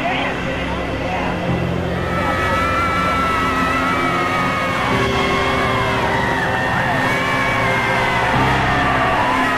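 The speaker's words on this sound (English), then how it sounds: "The crowd yells, and the President of the United States." A crowd yells and cheers as President Kennedy's motorcade passes, a dense, loud, continuous roar of voices with sustained whoops, heard under a broadcaster's commentary.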